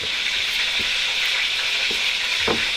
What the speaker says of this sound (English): And get our chicken thighs nice and browned up.